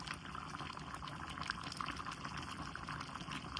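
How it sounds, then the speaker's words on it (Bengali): Homemade ghee pours into a chicken roast cooking in the pan, giving a steady soft liquid trickle over a constant low sizzle and hiss with no talk. "তো আমি এখন একটু ঘি দিয়ে দেব শুধু ফ্লেভারের জন্য"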